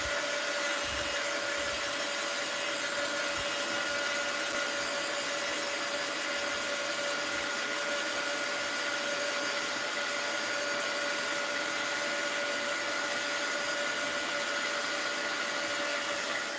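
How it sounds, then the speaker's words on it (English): A heat gun dries a wet mixed-media artwork, blowing with a loud, constant whooshing hiss and a steady tonal whine throughout, no talking. "I'm going to hit that with the heat gun."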